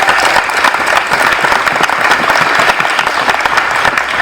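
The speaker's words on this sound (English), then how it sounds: "so please give them a round of applause" Loud, sustained applause from a school awards-ceremony audience honoring a championship team, a dense, even wash of many hands clapping without pause.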